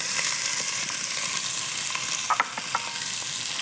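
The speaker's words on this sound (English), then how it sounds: "it sounds as if your pot is already on a very high heat." Onions and celery fry in a pot over very high heat with a steady, close hiss and sizzle, punctuated by a few crackles and light stirring sounds.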